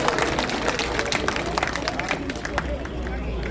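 A big rally crowd applauds for marine veterans, dense clapping and cheering at close range with crowd noise throughout.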